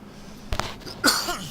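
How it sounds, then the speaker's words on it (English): Two short bursts of a cough, a brief double hack followed by a louder, raspy cough, against a quiet background. "as soon as I start the video, the cough comes"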